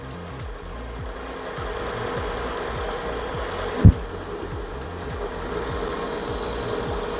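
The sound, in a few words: 2004 Kia Amanti engine idling with alternator running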